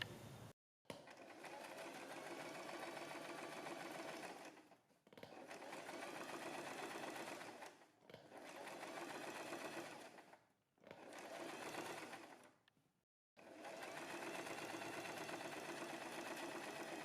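A sewing machine stitches along a kurti neckline next to the buckram, whirring steadily in several long runs. Each run is broken by a short pause, and the machine sounds close and alone.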